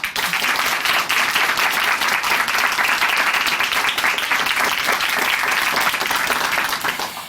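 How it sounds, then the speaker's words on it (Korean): Church audience during a Christian broadcast gives warm, steady applause, dense clapping sustained throughout before tapering at the very end. "우리 다시 한번 고병욱 형제님께 응원의 박수 보내드리겠습니다."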